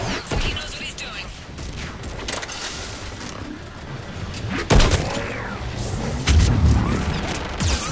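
Missiles launching in Mass Effect 3 sound as a dense rumbling barrage of booms and blasts, with a heavy thump near the middle and another surge toward the end, layered over constant combat noise.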